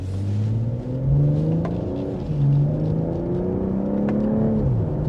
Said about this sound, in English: let's give this one more acceleration